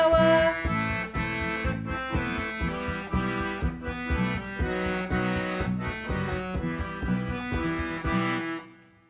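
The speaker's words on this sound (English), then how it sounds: "what you just heard was Stephen and Amy performing the traditional folk melody" The traditional Polish folk melody Red Blueberries, played by a folk ensemble as a lively, rhythmic instrumental tune with steady pulsing notes, loud and continuous before fading out at the end.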